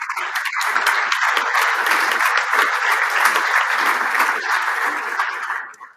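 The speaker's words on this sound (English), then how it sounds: "Big round of applause for her" An audience at a sport leadership and gender equality panel session applauds a panelist, a loud, dense burst of clapping that holds steady for several seconds and then quickly fades away.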